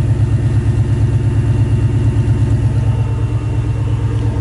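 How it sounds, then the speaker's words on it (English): A Ford Mustang Cobra V8 with an SLP aftermarket exhaust idles steadily, a deep, close, rhythmic burble with no voices. "I think it does have an aftermarket exhaust, though. It doesn't sound stock at all."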